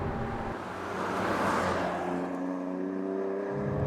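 A BMW M2 CS with its 3-litre S55 twin-turbo inline six revs steadily. The hum swells and rises in pitch over a few seconds while the car is under way, close and continuous with no talking.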